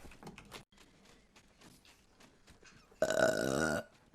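A loud, croaky burp lasting under a second, coming after a stretch of soft, quiet talk.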